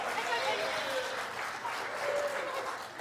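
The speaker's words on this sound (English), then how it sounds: "one more round of applause for Kelsey and Tucker." Audience at the 50th annual CDC talent show giving a continuous round of applause, heard as a soft, even wash of many hands clapping. A faint voice comes through beneath it.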